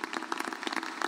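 Steady applause from an audience, a dense patter of many hands clapping at moderate volume with no voices on top.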